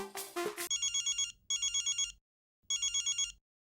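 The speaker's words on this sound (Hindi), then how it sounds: "रोशन भाभी का फोन" A telephone rings with a fast electronic trill, two ring bursts then a third after a pause, following a brief clatter at the start.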